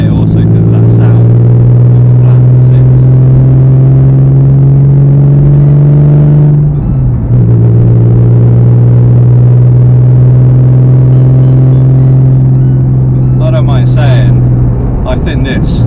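A 1999 Porsche 911 Carrera with a 300 bhp engine drones loudly and steadily, its deep tone dipping briefly before settling back to a constant hum.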